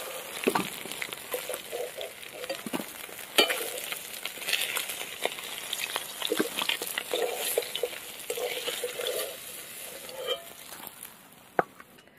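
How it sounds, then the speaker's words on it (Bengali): Chopped onion with salt fries in hot oil, a continuous crackling sizzle broken by occasional clicks and scrapes of stirring in the pan. "তেলের মধ্যে দিয়ে দেবো পেঁয়াজ কুচি, লবণ, পেঁয়াজটা ভালো করে একদম লাল করে ভেজে নেব"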